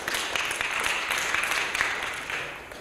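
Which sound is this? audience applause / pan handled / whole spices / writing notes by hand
audience applause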